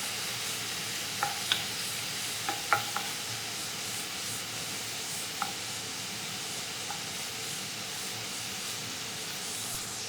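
Constant soft sizzle of bacon frying in a pan for frijoles, with a few light scrapes and taps as it is stirred.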